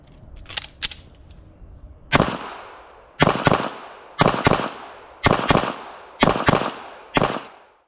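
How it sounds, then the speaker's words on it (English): A Girsan BRAT pistol fires in quick pairs, five or so sharp, loud double reports at roughly one-second spacing after a few quieter clicks and handling noises, each followed by a short echoing decay. "let's try a few doubles and see how the gun tracks"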